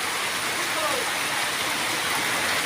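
Steady, dense hiss of rain falling continuously over a market street in Baliahati, loud and even throughout, with no pauses.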